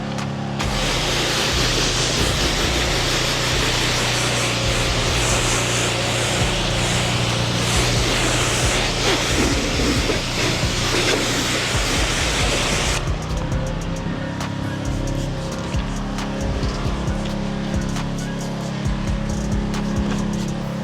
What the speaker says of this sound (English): So right now we're going to be spraying the whole vehicle.